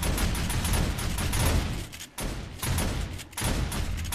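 Automated base defense guns firing nonstop in the zombie survival game 7 Days to Die: a loud, dense fusillade of rapid shots with a couple of brief dips, no voices.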